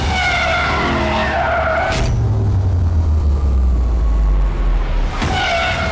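A 2.4-ton Porsche Taycan Turbo S electric car driven hard on a track, with loud tyre squeal and skidding through corners, a deep low rumble of hard acceleration in the middle, then more squealing as it changes direction.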